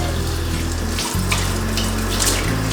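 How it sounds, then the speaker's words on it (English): Lukewarm water runs steadily from a tap to rinse milk off hand-milking equipment, a close, continuous splashing hiss with a brief break in the flow partway through. "Your first rinse needs to be with lukewarm water."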